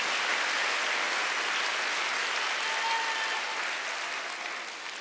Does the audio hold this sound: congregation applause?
yes